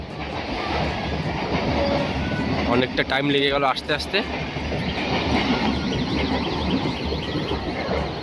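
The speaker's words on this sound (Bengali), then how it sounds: "আর সামনে তোমার বেলেডাঙ্গা তোমার রেল গেট, আর এখানে যাচ্ছে তোমার ট্রেন।" A train rolls past a railway crossing at Beldanga, steady rumbling with rhythmic clatter of wheels and a brief horn-like tonal blast, heard close under a person talking.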